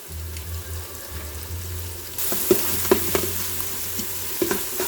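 Chicken karahi meat fries in oil in a pan with a close, steady sizzle that suddenly grows louder and brighter partway through, punctuated by several distinct metal stirring clinks and scrapes, without speech.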